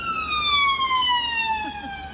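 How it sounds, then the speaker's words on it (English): An ambulance siren wails along Gower Street in London, a loud, near tone sliding steadily downward with rich harmonics over low traffic rumble. "I can hear definitely in London because the ambulances"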